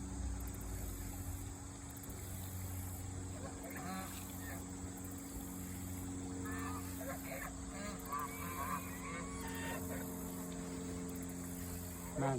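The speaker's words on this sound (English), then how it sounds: "there are certain type of geese." Geese honking at a campsite, scattered calls rising in the middle of the stretch over a constant low hum and background noise, fairly distant and faint.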